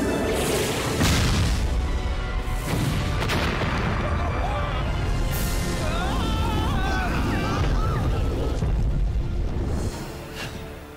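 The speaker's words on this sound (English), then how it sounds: "Now, time to let loose one of the gods' thunderbolts!" A cartoon thunderbolt blast roars out as one loud, sustained rumbling boom. It crackles and churns for several seconds before tailing off at the end.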